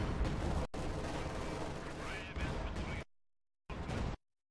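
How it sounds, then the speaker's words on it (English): Heavy artillery fire in the video game Company of Heroes 2 booms and crashes in a dense barrage, cut by abrupt silent gaps, then one more short burst. "now I'm gonna guess he's gonna go max artillery fire on this location"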